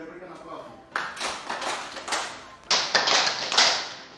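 Audience applause breaks out at an Indonesian teachers' sharing session after a presenter finishes, a dense patter of clapping from a nearby group that swells in two waves and holds steady without voices.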